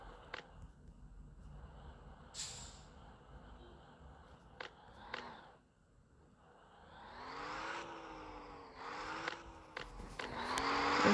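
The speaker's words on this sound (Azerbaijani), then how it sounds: "Maşın geçmiş." A car passes along the road, its engine hum swelling and sweeping past near the end, amid scattered clicks and faint background chatter.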